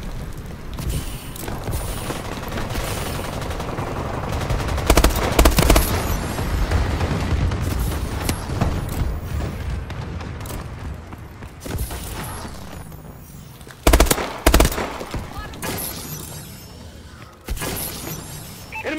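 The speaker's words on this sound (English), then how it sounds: "Friendly bombing run incoming." Call of Duty: Advanced Warfare airstrike bombing run, with dense bursts of explosions and shattering impacts mixed with rapid gunfire, loud and chaotic, fading and then flaring again in heavy blasts near the end.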